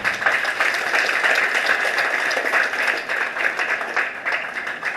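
An audience at a graduation ceremony applauds the graduates, a dense, even wash of clapping that holds steady throughout without speech.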